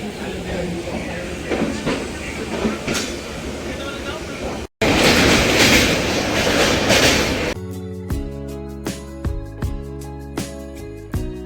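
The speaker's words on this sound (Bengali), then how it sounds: "ট্রেন একদম অন টাইমে ছেড়ে দিয়েছে" A passenger train runs on rails near Bolpur Shantiniketan on the way to Tarapith, giving a steady loud rumble and rattle for several seconds. It then cuts to music with no train sound.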